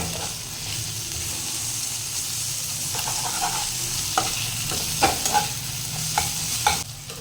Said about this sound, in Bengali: এই সময় আমি দিয়ে নিলাম টমেটো।